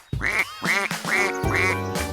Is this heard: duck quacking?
yes